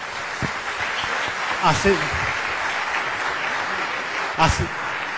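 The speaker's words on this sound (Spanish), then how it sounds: "Yo les pido antes que se levanten un aplauso para nuestros panelistas" An audience applauds the panelists at the close of an engineering panel on reinforced concrete design, a dense, steady wash of clapping with voices talking over it.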